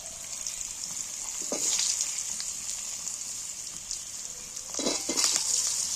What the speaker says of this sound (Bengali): এক চামচের মতো তেল দিয়ে দিচ্ছি এবার আলুগুলো গুঁড়ো আলুগুলো তুলে দিচ্ছি